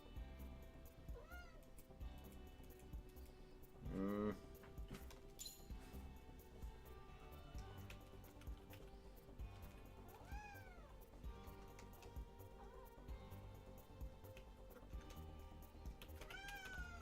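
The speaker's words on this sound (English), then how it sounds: "That's definitely an annoyed meow." A cat gives several annoyed meows, rising and wavering, over steady background game music, one louder drawn-out cry standing out partway through and fainter meows recurring later.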